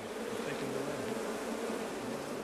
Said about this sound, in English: Bees from all over the apiary are joining the attack.